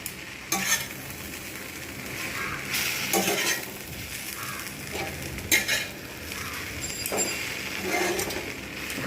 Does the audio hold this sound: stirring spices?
yes